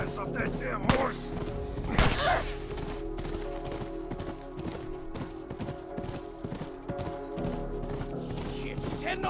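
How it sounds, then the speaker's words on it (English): A horse gallops in The Last of Us with rhythmic thudding hoofbeats and a brief whinny, mixed with game effects and voices talking over it. "Get your ass off that damn horse!"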